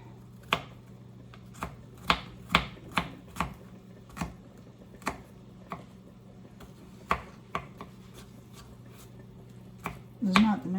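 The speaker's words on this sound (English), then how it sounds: "just chop it also coarsely because this is going to be a stew operation" A knife chops vegetables coarsely on a cutting board in a small home kitchen for a turkey wing stew, giving about a dozen sharp, close thuds at an uneven pace with a faint hum underneath.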